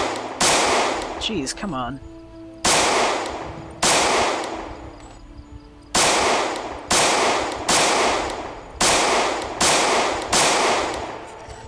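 Repeated gunfire aimed at zombies in Project Zomboid, a run of loud sharp shots with slowly decaying tails spaced about a second apart, with brief talk near the start.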